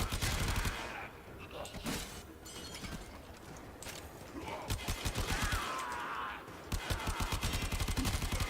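The Pantero assault rifle in a video game set in Fortuna fires in long, rapid automatic bursts. Each burst is a fast, even stream of loud cracks, separated by short lulls.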